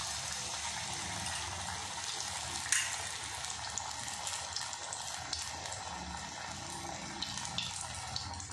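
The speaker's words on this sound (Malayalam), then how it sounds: "എണ്ണ ചൂടാകുമ്പോൾ നമ്മളിതിങ്ങനെ മുക്കി ഇതിലേക്ക് ഇട്ട് കൊടുക്കുന്നു." Indian borage leaves, dipped and dropped into hot oil, fry with a steady, soft crackling sizzle that holds evenly throughout with no speech.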